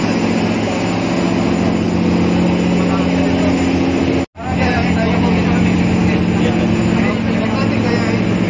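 A motorized outrigger boat engine off Alabat Island drones loudly and steadily up close, broken by one brief dropout midway before the roar resumes.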